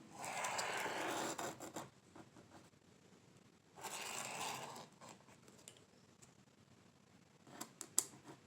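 Scissors trim paper for a Dollar Tree gingerbread man craft sign, with two longer rasping cutting passes separated by quiet gaps and a few sharp snips near the end, close and fairly faint.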